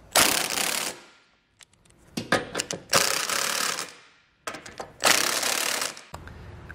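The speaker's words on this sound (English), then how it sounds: "we'll come back with our impact and just snug everything up" An impact wrench snugs the bolts of a Curt trailer hitch receiver on a 2021 Chevrolet truck. It fires in three loud, rattling bursts of about a second each, with short clanks and pauses between them.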